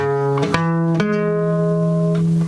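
Held, bright keyboard-style chord on notes five, eight and twelve, struck with a couple of quick note changes early and then sustained loudly before cutting off abruptly.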